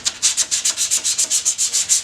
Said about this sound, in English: just sanding this drawer out here